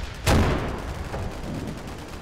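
Artillery fire mission in the video game Combat Mission: Black Sea: one loud, sharp boom hits, then a rolling rumble trails off as it slowly fades.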